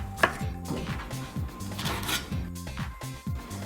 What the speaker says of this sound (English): Just cut them into chunks.